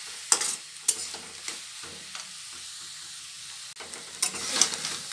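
Soft frying sizzle and hiss of mustard and bathua greens with tempering in a pan, broken by several sharp scraping stirs and a few louder bursts.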